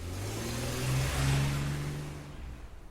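A car engine hums and revs as it pulls away, a low droning motor swelling to a peak mid-way and then fading into the distance alone.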